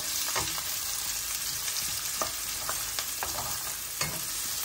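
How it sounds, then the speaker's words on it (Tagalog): Onion and garlic fry in a pan, a soft, steady sizzle broken by the repeated sharp scrape and clack of stirring, close and without talk. "Sibuyas pa lang yan at bawang."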